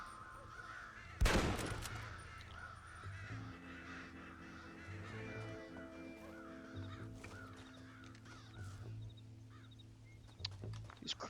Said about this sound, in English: These crows have feelings too, even if they are pixelated.